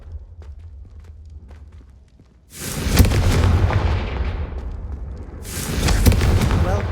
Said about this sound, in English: The blasting curse, Confringo, fires an explosive blast.